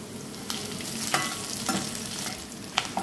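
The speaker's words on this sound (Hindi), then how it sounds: "अब हम प्याज डाल देते हैं" Onions frying in a pan for an Indo-Chinese chilli idli dish give a steady, close sizzle broken by a few sharp spatula scrapes and stirs, with no talking.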